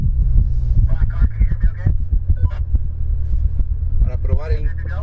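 A 2015 Corvette Z06 with automatic transmission rumbles at Mountain Springs racetrack in Nevada, its deep, throbbing low engine note running steadily under someone talking.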